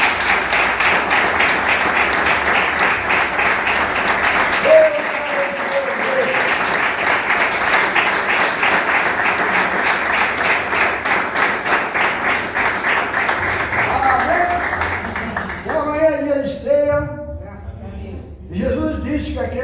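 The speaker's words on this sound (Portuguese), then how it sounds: "Vamos dar uma salva de palmas," A church congregation claps loudly and steadily for a long stretch, with a voice calling out over it before the applause thins into speech near the end.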